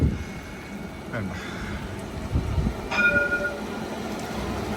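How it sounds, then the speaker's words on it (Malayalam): A light rail train rumbles past at a distance in Jerusalem on a rainy night, with a low rolling drone, squealing wheel tones and brief horn-like notes, amid faint background voices. "ഇവിടുത്തെ ഒരു ലൈറ്റ് ട്രെയിൻ പോകുന്നതാണ്"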